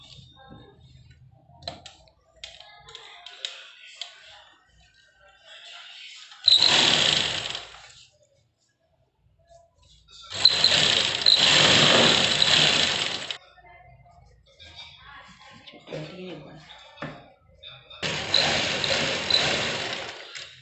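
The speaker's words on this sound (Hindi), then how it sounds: "हम इसको राउंड शेप में अपनी सिलाई को लगा लेंगे" Sewing machine stitching a round-shaped seam on palazzo pants, heard in three separate bursts of close mechanical whirring with quiet gaps and faint handling noises between them.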